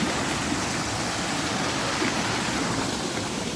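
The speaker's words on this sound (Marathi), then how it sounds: "पाण्याचा फोर्स बघा तुम्ही केवढा मोठ्याने आहे हा" Loud, steady rushing of a forceful stream, a dense, continuous roar of water close by with no pauses and no voices.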